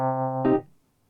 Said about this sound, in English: In this case, there's this organ which sounds like this.